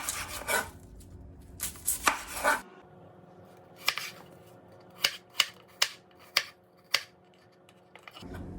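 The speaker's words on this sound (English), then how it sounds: "cut the onion. I'm going to start with the onion." A knife chopping an onion into tiny pieces on a board, heard up close as bursts of rapid cutting early on, then a run of about six distinct single chops spaced roughly evenly, with quiet gaps in between.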